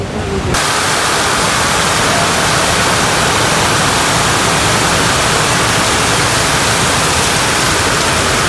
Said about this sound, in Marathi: खाली धबधबा बघा केवढा मोठा